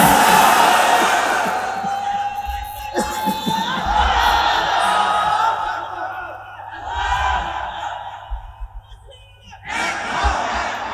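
Crowd at a Bangla waz religious gathering in Khilkhet, Dhaka, answering a takbir call with loud collective shouting, swelling and fading in waves, with a speaker's voice and scattered voices mixed in.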